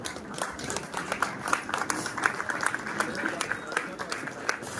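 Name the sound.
audience giving a standing ovation, clapping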